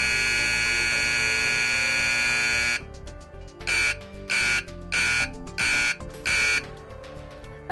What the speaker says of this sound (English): I will now give an example of the sounds of the horn for demonstration purposes.